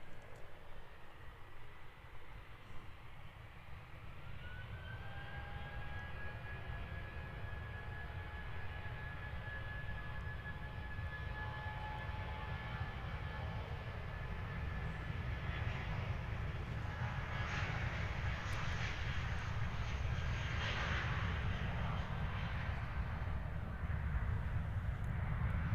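An Air New Zealand A320neo jet takes off at Christchurch Airport, a steady, loud broadband engine roar that swells as it rolls and rotates, with a rising whine running through the middle.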